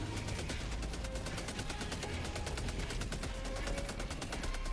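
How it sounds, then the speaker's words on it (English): Machine guns in the video game Helldivers 2 fire a dense, steady stream of rapid automatic shots that carries on without a break, loud and close. "Oh god, there's so many machine guns."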